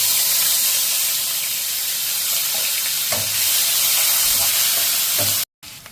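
Onion paste frying in a pan for a rohu fish korma: a loud, steady sizzle and hiss running throughout, with a few soft stirring knocks, cut off briefly near the end.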